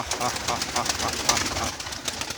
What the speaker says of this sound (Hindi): ये देख लें कितने कबूतर हैं